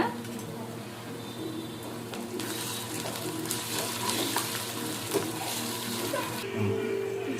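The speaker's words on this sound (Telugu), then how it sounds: "జింజర్ గార్లిక్ పేస్ట్ కూడా బాగా ఫ్రై అయిపోయింది" Ginger garlic paste and onion fry in a pan, a steady close sizzle with occasional stirring scrapes running throughout, with a faint low hum underneath.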